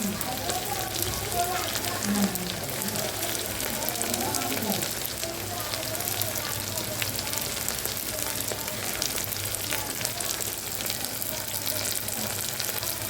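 Tomatoes added to a hot pan sizzle and fry in a steady, crackling hiss that continues unbroken, with a voice talking briefly near the start.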